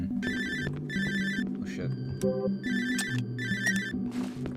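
A phone rings in the horror video game Cry of Fear, electronic ring bursts repeating in a steady pattern over a low droning game soundtrack, loud and near, with a man briefly swearing under it.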